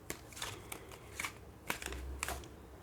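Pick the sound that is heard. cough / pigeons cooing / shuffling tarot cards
shuffling tarot cards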